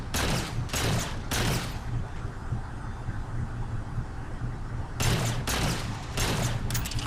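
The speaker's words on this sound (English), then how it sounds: "once you shoot at him, he's going to start firing at you" Grunt gunner on a mounted turret in Halo 4 unleashes bursts of rapid automatic fire, loud and close, in two clusters separated by a few seconds of rumbling battle noise.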